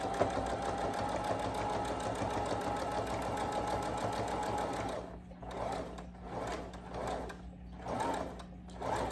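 A sewing machine stitches golden yellow thread onto a toddler blanket, running in a fast, continuous mechanical whir at first, then breaking into short start-stop bursts of stitching, close by and with no voices.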